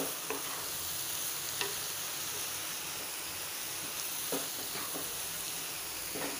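Onions with curry leaves sizzle in a pan, a dense, even hiss of frying that runs throughout, broken by a few scattered scrapes from stirring; close and unaccompanied by speech.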